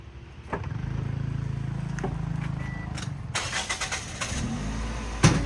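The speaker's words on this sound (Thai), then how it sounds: "รถสตาร์ททีเดียวติด" A Toyota Vios engine cranks and catches on the first try, settling into a steady idle, then a few clicks and rattles follow as the engine runs on nearby.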